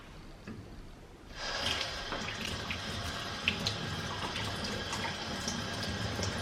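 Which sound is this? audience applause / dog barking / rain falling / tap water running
tap water running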